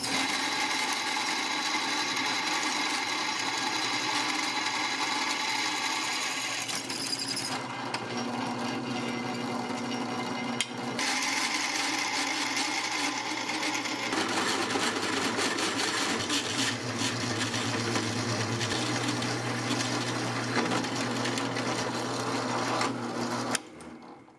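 Drill press boring with a 1/16 bit into a 3/4-inch pipe torque tube for a bandsaw stand, a steady loud motor whine with shifting pitch as the bit cuts, running continuously without pauses and no talk.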